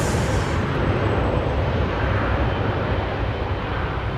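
An Airbus Beluga XL cargo aircraft departs Heathrow Airport, its jet engines producing a loud, steady, broadband roar that fills the whole stretch without letup, heard from fairly close.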